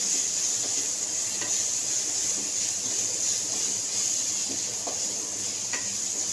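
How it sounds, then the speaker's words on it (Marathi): Peanut powder stirred into fried masala in a pan for a spicy Maharashtrian brinjal dish, a steady close sizzle under scattered soft scraping taps of a spoon, with no talking. "आता आपण ह्याच्यामध्ये टाकूया पाव वाटी शेंगदाण्याचा कूट. त्याला पण चांगला मिक्स करून घ्यायचा आहे."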